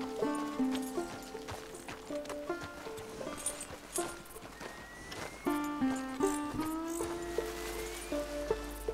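A horse's hooves clip-clop steadily at a walk in Red Dead Redemption 2, soft and fairly close beneath a layer of tonal background music.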